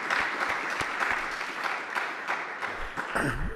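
Sustained applause from an audience at a talk on marriage equality, many hands clapping in a steady roar with a few sharper individual claps standing out, moderately loud.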